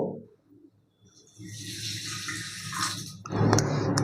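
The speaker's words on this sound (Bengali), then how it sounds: "এবারে এই চিনিটার জন্য যে জলটা লাগবে সেটাও দেখিয়ে দিচ্ছি তাহলে দু কাপ চিনির জন্য আমি এখানে দেব" Two cups of water poured into a pot of sugar to make rasgulla syrup, a steady splashing pour that runs for a couple of seconds before a brief louder clatter near the end, with no talk.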